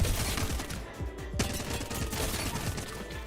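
Rapid gunfire in the shooter video game Apex Legends, a dense burst of quick repeated shots with low booming thumps, fast irregular rhythm, loud and close, continuing throughout without speech.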